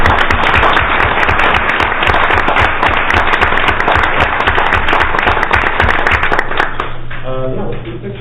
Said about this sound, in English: Join me in giving these folks a round of applause.